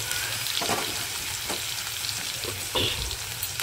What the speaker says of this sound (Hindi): डाल देंगे लहसुन जो हमने कूट के रखा था, इसमें हम 5-6 कलियाँ ही लिया है। डाल देंगे कढ़ाई पर।